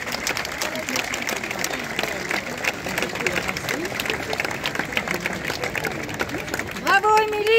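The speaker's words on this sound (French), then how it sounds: "Vos applaudissements pour leur montée sur le parvis Casino" A crowd on the Casino forecourt in Vichy claps for the costumed extras of the imperial court at a Napoleon III costume parade, with dense, continuous applause beneath a loud announcer's voice over a public address.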